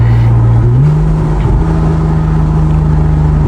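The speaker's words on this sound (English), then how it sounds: "Listen to the downshift" Porsche 911 engine downshifting, a loud, close, steady engine drone that steps up in pitch as it changes gear and then holds a smooth hum.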